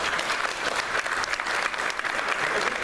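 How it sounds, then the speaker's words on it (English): Applause from a dinner audience at a county Republican Party Lincoln Day dinner, a steady, dense wash of many hands clapping, fairly distant, with no talk over it. "Please, another round of applause."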